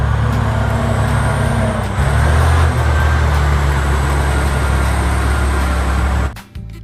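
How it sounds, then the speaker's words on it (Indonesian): A toy RC mining truck runs with a steady motor whine and low mechanical drone, shifting pitch a couple of times before cutting off abruptly near the end. "Yang ini truk tambang."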